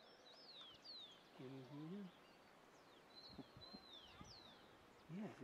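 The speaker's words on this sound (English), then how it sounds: "you can hear the birds all around you" Birds chirp faintly around ancient Inca stone stairways in Peru, with scattered thin, high calls across a quiet outdoor setting and brief human voices now and then.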